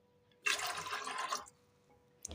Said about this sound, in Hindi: हमने यहाँ 3 गिलास पानी डाल दिया है